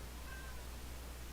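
A brief, faint cat meow comes through once over a steady low hiss and hum.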